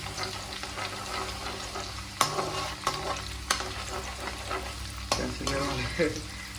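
Prawn masala ingredients sautéing in a pan, with a continuous sizzle broken by several sharp spoon scrapes and stirring clatters at irregular intervals.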